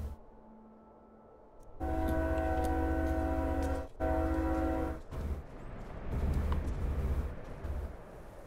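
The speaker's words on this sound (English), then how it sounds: "God, the train's going by again." Train passing outside with a sustained horn-like tonal blare and a heavy low rumble that swells and cuts out a few times, heard from indoors at moderate distance, with no talking.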